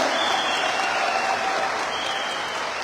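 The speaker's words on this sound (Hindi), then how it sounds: "तालियां मांगे दिल से मांगे जोरदार।" A seminar audience claps loudly and steadily, a dense and even wash of applause that holds throughout with no voices rising above it.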